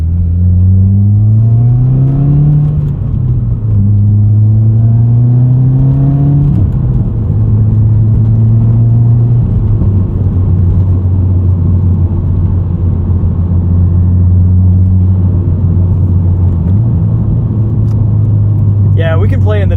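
A modified 2020 Subaru WRX with a 6-speed manual pulls hard into boost, its engine note climbing steadily through several rising sweeps with brief dips at each gear change, loud and continuous from inside the cabin.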